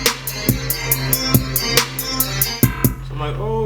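Recorded drum loop sample at 140 BPM played back in Maschine: steady punchy kicks and snares with rapid bright hi-hat ticks over a sustained bass tone, loud and close, without talk.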